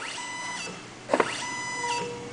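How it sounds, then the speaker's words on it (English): An electric motor in a fuel gas valve actuator whirs briefly as it repositions the valve, short tonal motor runs with a sharper clicking burst in the middle, close and fairly quiet. "So when I change my signal, the motor activates,"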